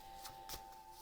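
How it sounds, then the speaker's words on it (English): Tarot cards are shuffled in a brief, faint riffle of two or three quick papery bursts against a steady background hum, without talk. "I am going to be shuffling on camera"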